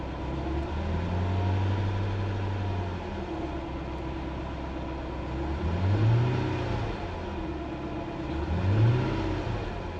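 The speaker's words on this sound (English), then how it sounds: "Let me raise the RPM a little bit and see what happened." A 2008 Lexus GS460 4.6L V8 engine idles with a steady drone, then revs twice in quick swells before dropping back to idle, close and clear with no talking.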